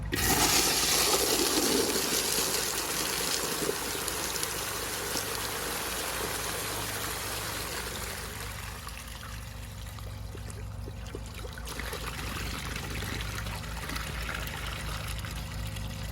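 Water floods over the rim of a plugged Universal Rundle Colburn urinal. A steady, loud rush and splash is strongest at first, then eases into a continuous pouring trickle.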